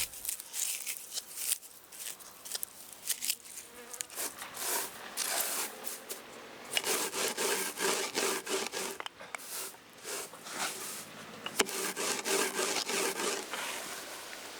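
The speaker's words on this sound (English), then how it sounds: "rub the flower heads between your hands and then crush them using a rolling pin" Dried onion flower heads rubbed between hands and crushed with a rolling pin, a continuous close dry rustling and scraping with gritty rolling strokes in uneven bursts.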